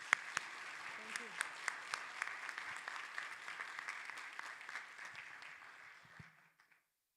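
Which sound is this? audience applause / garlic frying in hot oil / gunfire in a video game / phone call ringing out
audience applause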